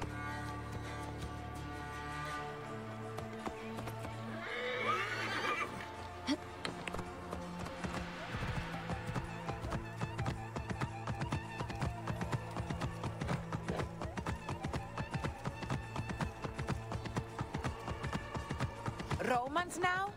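A horse in the game Assassin's Creed Origins, its hooves clip-clopping steadily over a dense game soundtrack with music and effects, while someone talks over it throughout.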